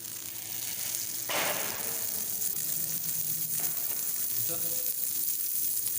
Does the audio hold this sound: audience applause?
no